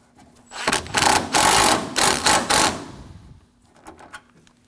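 Several bursts of a power tool tightening radiator mount bolts on a Honda, loud mechanical whirring pulses in quick succession with brief gaps, then fainter clicks as it stops, no talking.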